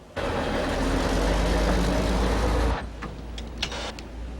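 A heavy garbage truck engine rumbles loudly and steadily, then cuts off abruptly, leaving a quieter low hum with a few faint clicks.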